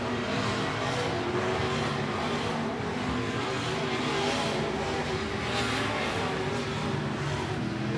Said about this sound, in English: Down the back straightaway for the 20th and final time is Jeremy Frenier